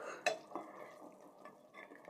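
A spatula scrapes and stirs mutton frying in oil inside a pressure cooker, a few quiet metallic clinks and soft scrapes against a faint sizzle.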